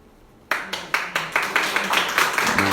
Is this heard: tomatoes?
no